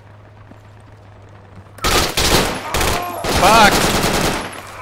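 Bursts of rapid automatic gunfire in the military shooter Project Reality erupt after a quiet start, loud and dense, with someone shouting over the shots.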